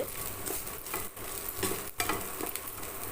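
Dried fish coated in chicken masala frying in a pan, a dense, loud sizzle of hot oil throughout, broken by a few scraping stirs.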